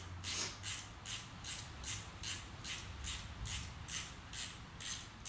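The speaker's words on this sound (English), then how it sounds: "Start tightening the fitting from the back." A ratcheting wrench tightens the fitting on a Lokar locking transmission dipstick on a Dodge Dakota or Ram, soft rhythmic clicking bursts repeating about twice per second, quiet and close, with no voices.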